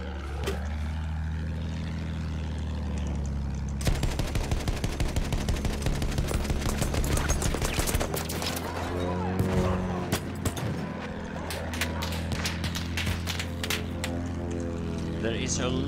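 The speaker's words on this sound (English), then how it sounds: "There is a lot of shooting on the planes." Rapid gunfire and machine-gun bursts from a Battlefield 1 battle, with aircraft in the fight, crackle densely over a steady engine drone. The shots grow much busier after the first few seconds and stay loud and continuous to the end.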